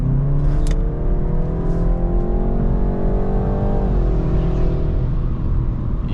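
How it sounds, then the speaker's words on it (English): A Gen 3 BMW M340i engine revving hard with a rough, beat-up tone, holding a loud sustained drone that rises, then drops away, with a brief hiss near the start. "it sounds like an engine that's been beat up."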